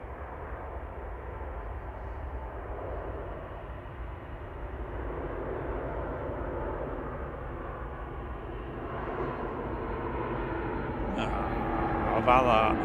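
An airliner coming in to land at Manchester Airport gives a steady, broad engine rumble and roar that builds slowly over about thirteen seconds, heard from a distance through outdoor background noise.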